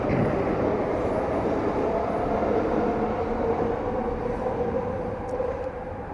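A train passes close by with a loud, steady rumble and rolling rail noise that fills the whole stretch without pause.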